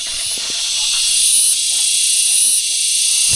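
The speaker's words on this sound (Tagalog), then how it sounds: "Kuliglig daw yan, kuliglig. Kala ko nga ibon." Kuliglig cicadas shrill loudly outdoors in a constant, piercing high drone that holds steady the whole time, with faint low knocks and background sounds beneath.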